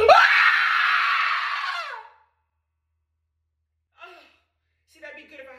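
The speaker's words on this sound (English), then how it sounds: "I've always wanted to show off my horror movie scream" A person at home lets out a loud, drawn-out horror-movie scream lasting about two seconds that trails off, followed by silence and then a few short gasping breaths.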